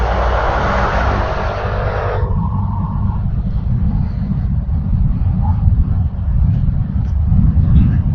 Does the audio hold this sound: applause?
no